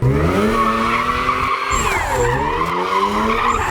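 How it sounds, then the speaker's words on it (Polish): Loud, sustained tire screech as a BMW skids hard during a brake test, with engine roar running through the whole stretch. "Teraz był test hamulców."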